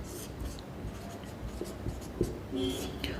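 A pen scratches numbers onto a board in short, irregular strokes, with soft scraping taps and faint room noise throughout.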